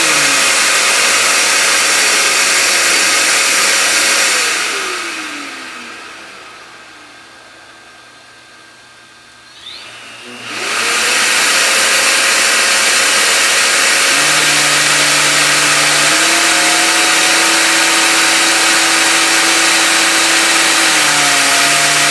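A SurfPrep 5-inch random orbit electric sander runs with a loud, close, steady motor whine whose pitch falls as it winds down and goes briefly quiet, then rises again and settles at a steady speed.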